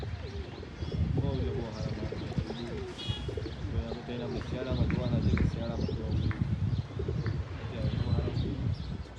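Pigeons coo repeatedly at close range while someone talks over them, with occasional chirps and wing or foot movement in the background.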